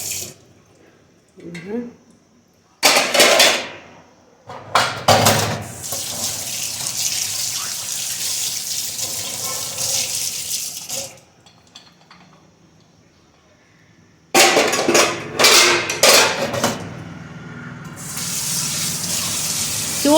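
Tap water running while dishes are washed in a home kitchen, gushing in several bursts separated by quiet gaps, with clatter from the dishes.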